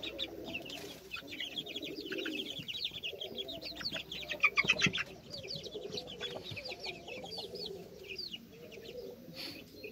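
Young chickens, chicks and cockerels in a poultry coop keep up a dense, continuous chorus of high peeping and lower clucking, close and fairly quiet, with no talking.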